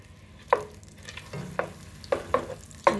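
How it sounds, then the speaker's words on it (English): Cream cheese and a whole stick of butter being broken up and stirred in a hot pan, with a soft sizzle underneath and a handful of distinct scraping knocks from the utensil. "4 ounces of cream cheese. Break that up."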